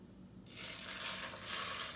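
Very hot oil poured over rice, a steady bright sizzle that bursts in after a quiet moment and crackles on loudly without pause.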